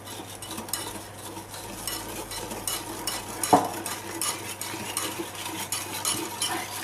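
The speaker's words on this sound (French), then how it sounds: "Maintenant je vais battre ça, enfin le sucre et les œufs rapidement" Sugar and eggs whisked rapidly in a bowl for a chocolate cake: a steady, close scraping whirr of the whisk against the bowl with one louder clink midway, no voices.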